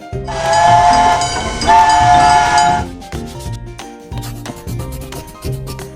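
A train sounds its horn in two loud, sustained chord blasts lasting a couple of seconds over a rumbling background, followed by light music.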